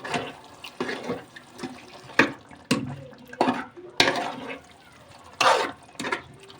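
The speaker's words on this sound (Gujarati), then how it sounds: "હવે આપણે એને થોડુંક પાણી નાખીશું પાણી ઉમેરીશું થોડુંક" Water is added to a desi chicken curry in a series of short, splashy pours and sloshes, repeated bursts with brief gaps, close and fairly loud.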